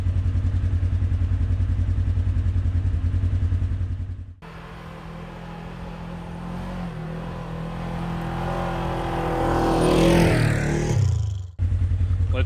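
A 2024+ Polaris RZR XP 1000 with an Aftermarket Assassins dual muffler idles with a loud, steady, throbbing exhaust pulse. After a brief drop it builds into a rising rev, then cuts back sharply to idle.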